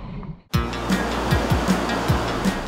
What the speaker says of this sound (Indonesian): khas ombak pantai selatan yang besar dan kencang